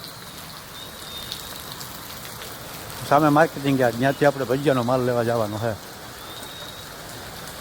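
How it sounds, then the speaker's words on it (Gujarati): Steady rain of the season's first downpour patters and hisses throughout, with someone speaking briefly over it midway. "સિઝનનો પહેલો વરસાદ"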